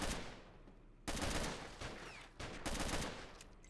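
Rapid bursts of gunfire from the World War II strategy game Men of War: Assault Squad 2, British commandos storming a German hill fort, loud, with several dense volleys separated by short pauses.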